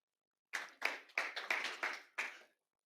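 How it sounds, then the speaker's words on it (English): Applause from an audience welcoming presenters at a tech show-and-tell session, heard as six distinct bursts of clapping over about two seconds, separated by short gaps, fairly close and moderately loud with no talking. "Applause."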